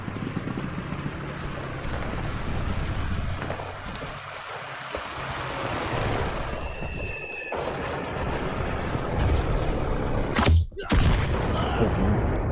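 Bomb blast in an online war shooter game: a continuous rumbling barrage of gunfire and booms, with a sharp loud explosion burst near the end followed by a brief dropout.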